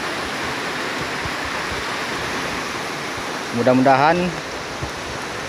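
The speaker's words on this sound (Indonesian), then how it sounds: "Jadi berhubung waktunya masih hujan lebat, masih sangat deras sekali." Heavy, steady downpour hisses loudly and without a break throughout, while someone speaks briefly near the middle during a pause from fishing in a machine shed.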